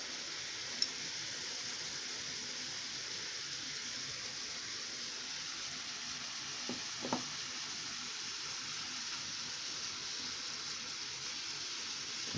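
Vegetables hitting a hot pan on a home stove while making a nutritious breakfast, giving a steady, even sizzle that runs the whole time, with a couple of faint clicks and a brief stirring scrape partway through.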